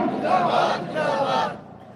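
A crowd at a religious zikr gathering shouts the takbir together in two loud, sustained bursts of massed voices, then the sound drops away into quieter room noise.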